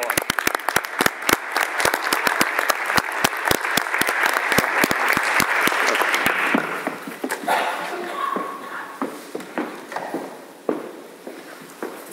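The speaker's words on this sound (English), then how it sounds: "how about if we just give you a round of applause?" An audience at a school board meeting breaks into loud, steady applause with many sharp claps that gradually thin out and fade over about twelve seconds.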